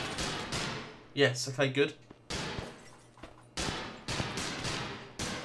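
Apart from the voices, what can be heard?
gunshots in the video game The Eternal Castle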